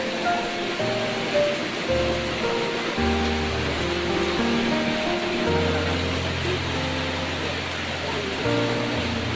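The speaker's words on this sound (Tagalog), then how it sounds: "Grabe yung ulan dito." Steady, dense wash of heavy rain on a mountain at night fills the whole stretch, a constant roar with a low rumble and faint voices murmuring underneath.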